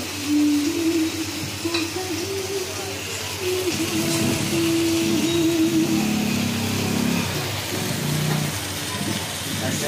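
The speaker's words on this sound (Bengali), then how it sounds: "দাদা এখন ভাজছে আমাদের স্পেশাল চাউমিন।" Chow mein noodles sizzle and hiss in a hot pan at an outdoor street stall amid busy street noise, with a steady hum and occasional metallic scraping throughout.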